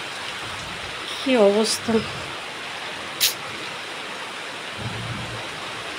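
Heavy rain pours steadily with broadband hiss during a thunderstorm, water coming in through a large window with no shutters, and a low rumble near the end; a person speaks briefly over the downpour.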